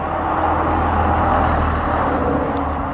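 Morning road traffic on a roadside walk, a loud continuous roar of passing cars and heavier vehicles close by, with no voices.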